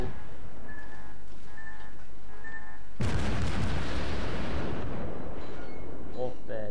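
Naval guns booming in the World of Warships video game, aimed at a cruiser: after a quieter stretch with some talk, a loud, sudden volley of heavy blasts hits and rumbles on for several seconds.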